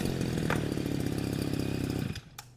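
Japanese Maruyama brush cutter, a secondhand 32cc-class trimmer engine, revving loud and steady with a harsh buzzing drone for about two seconds before cutting off abruptly, leaving brief quiet ticks.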